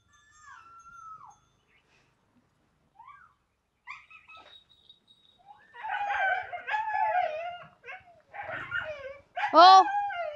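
Dogs near a farm field let out howls, whimpers and a few barks at moderate distance, sparse at first and then in denser overlapping calls, with some voices nearby.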